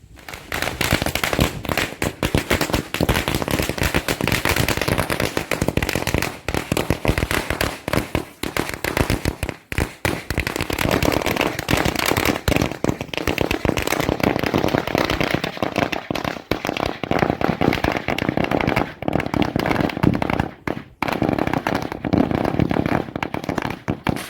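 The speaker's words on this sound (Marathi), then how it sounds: "फटाके फोडून घेतो" Dense, continuous crackling of firecrackers bursting in rapid overlapping pops at a Ganesh Chaturthi celebration, loud and close, with a few brief lulls.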